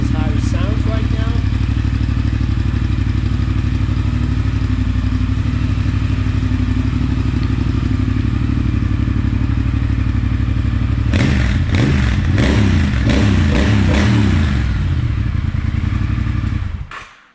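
A 2019 Triumph Thruxton R with a fairing kit idles close by in a loud, steady, throbbing drone, then gets a few quick blips of the throttle near the end before shutting off.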